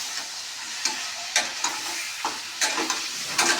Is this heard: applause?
no